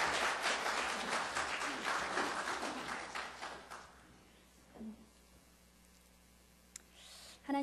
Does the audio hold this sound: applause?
yes